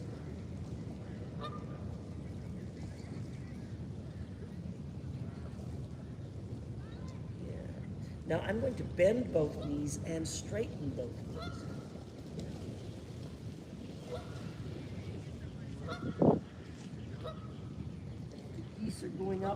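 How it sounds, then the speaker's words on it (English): A gaggle of geese honks in the distance beside the sea during an outdoor yoga session. The calls come in a few scattered bursts under steady background noise while an instructor talks over them. "We have a gaggle of geese."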